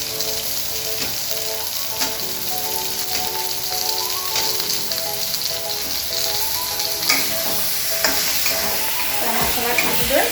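Sliced potatoes fry in a pan with a loud, constant sizzle, joined by occasional stirring clatter and scrapes close by.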